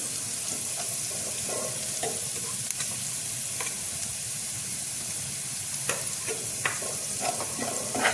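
Vegetables and homemade Frankie masala are stirred together in a hot pan, giving a steady soft sizzle broken by scattered scraping clicks of the spoon against the pan, with no voices.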